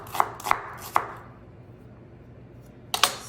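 A knife chopping a purple onion on a cutting board for falafel: three crisp close chops in quick succession, a quiet pause, then another pair of chops.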